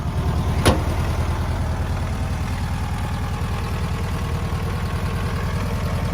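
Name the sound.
1970 Volkswagen Beetle 1600cc single port engine running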